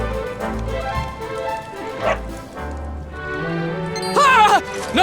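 A dog in Dragon Quest XI, set in a town, gives short yips and whimpering barks that rise into a louder burst near the end, mixed with game sounds and a voice.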